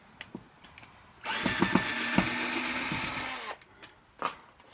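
A Black & Decker cordless drill whirs steadily for about two seconds at close range, with a few clicks and knocks before and after.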